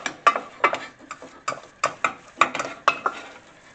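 Choux pastry dough being stirred and dried in a small saucepan over medium-low heat, with a rhythmic series of spoon scrapes and knocks against the pan, close and distinct.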